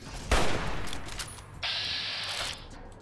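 Gunfire from the video game Fallout New Vegas in the Ruby Hill Mine: a loud burst of shots near the start, followed by a sustained noisy volley that cuts in again partway through, alone without talk.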